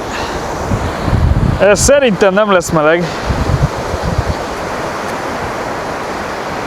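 Sea waves washing onto a Baltic shore, a constant rushing surf roughened by wind buffeting the microphone, with a person speaking briefly near the start.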